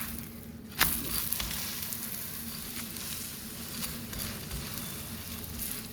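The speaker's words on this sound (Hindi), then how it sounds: "अब मैं इसे घी डाल के सेकूँगी।" A stuffed paratha fries in ghee on a hot tawa, giving a steady, dense sizzle with small crackles throughout. The sound is close and continuous, with no voices.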